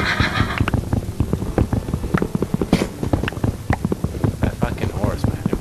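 A horse in the Minecraft video game neighs and whinnies amid clip-clop hoofbeats, with someone talking over the game sounds throughout.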